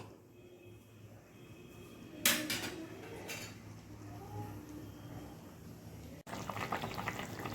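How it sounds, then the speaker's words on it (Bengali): Thin singi fish broth simmers in a pot on a gas stove with a soft, low bubbling. A few sharp clinks of utensils against the pot come through near the middle, and the bubbling swells again at the end. "আর একটু সামান্য একটু হালকা ফুটলে আমি গ্যাসটাকে অফ করে দেব"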